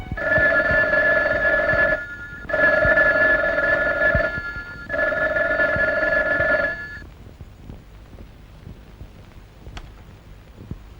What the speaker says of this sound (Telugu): ఫోన్ మోగుతుంది రెస్పాన్స్ లేదు